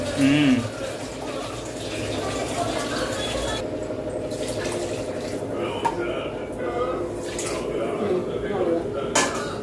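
Steady water pours and splashes into a metal cooking pot for vegetable biryani, a continuous rushing fill with faint clinks, close by.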